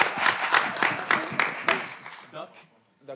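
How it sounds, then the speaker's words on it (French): Applause for a guest introduced as Doc Gynéco on a French talk show, a burst of clapping from a small audience that fades out over a few seconds as voices begin. "On l'applaudit."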